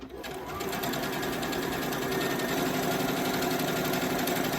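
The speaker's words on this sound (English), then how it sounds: "So now I have to sew a little bit like this to the edge." Sewing machine stitching along the edge of a ribbon tutu, running steadily and loudly at a fast even pace after a brief start, with no talking.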